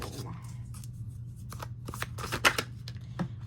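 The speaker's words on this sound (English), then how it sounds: "One more shuffle." Playing cards are shuffled up close, a series of quick riffling bursts and soft taps in uneven rhythm, with a low hum underneath.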